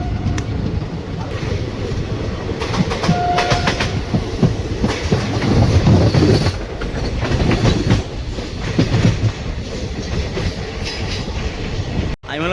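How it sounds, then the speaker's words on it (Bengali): A local train from Kolkata to Mayapur rolls along just after leaving Dum Dum, with a loud, steady rumble from inside the carriage and a rhythmic clickety-clack of the wheels throughout. "এই 2 মিনিট হল্টে পরে 5:47-এ কিন্তু ছেড়ে দিল ট্রেন।"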